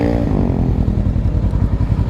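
A Kawasaki ER6N 650cc motorcycle engine idles while warming up in the morning, a steady, loud, close, low rumbling throb with even pulses and no talk.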